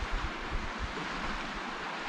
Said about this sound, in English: And just enjoy the babbling river.